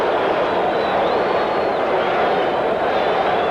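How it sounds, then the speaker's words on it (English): A large baseball stadium crowd at Game 7 of the 1982 World Series, Cardinals against Brewers, roars in a steady, dense, loud wash of cheering that holds without a break throughout. "You heard the crowd react with Paul Suter."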